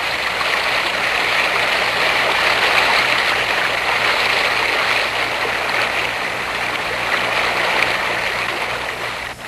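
Water in a stream or river rushes over rock in a loud, continuous broadband wash that stays steady throughout with no voices.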